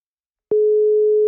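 Starting a phone-style call mode in the Talkpal AI language app triggers a single steady electronic call tone that begins abruptly after brief silence and holds loud and unbroken, with no voices.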